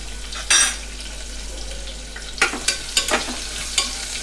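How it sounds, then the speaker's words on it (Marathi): Chopped onion and green chillies dropped into hot oil, a burst of sizzle at the start followed by steady crackling frying and several sharp stirring scrapes in the pan, close and fairly loud. "1 कांदा चिरून घेतला आहे मोठा, तो पण ह्या तेलामध्ये ॲड करून घेऊया."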